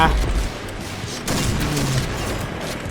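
Gunfire crackles in the Point Blank shooter game. A loud, continuous burst of shots and booms fills the mix, with a sharper blast partway through.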